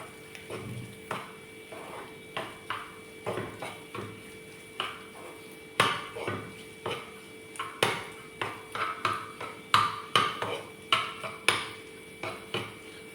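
A spoon repeatedly scrapes and knocks against a pan while a dish is stirred with salt and chili, producing a rhythmic series of close metallic clinks and scrapes over a faint sizzle.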